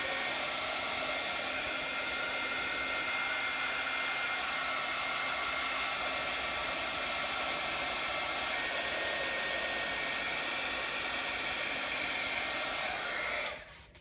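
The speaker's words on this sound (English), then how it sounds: "I always use either a heat gun or a hair dryer to dry my paints." A hair dryer drying paint blows with a steady, loud whirring roar that holds constant for several seconds, then cuts off abruptly at the end.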